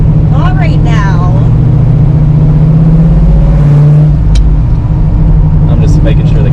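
A 1973 Camaro Z28 on its first road drive, its engine rumbling loud and close with a strong low drone that rises and dips as it revs between gears; people talk briefly over it.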